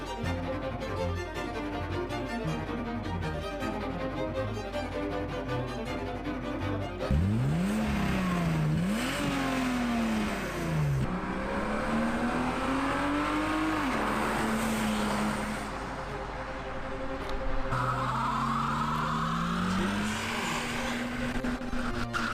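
A 300HP BMW E30 build drives and revs hard throughout, its engine note sweeping up and down with repeated loud accelerations and gear changes, close and continuous with no talking.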